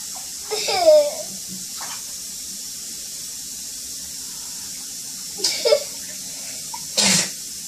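A small, sharp sneeze comes early, followed later by a couple more brief sneezy bursts against faint splashing water.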